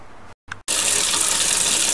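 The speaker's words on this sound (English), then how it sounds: "Turn on a hot water tap to make sure all the air is purged from the system." A hot water tap on a system with a tankless water heater opens after a brief sputter and gap, then runs in a steady, loud, broadband gush as air is purged from the lines.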